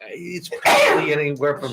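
A single loud, abrupt sneeze bursts out during a committee meeting in a room, cutting into a man's steady speech, which carries on right after it.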